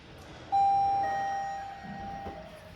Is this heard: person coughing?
no